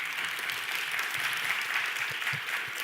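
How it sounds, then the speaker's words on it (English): A crowd applauds steadily after a talk on project management, a dense, even wash of clapping held at a constant level throughout. "Round of applause for Daniel."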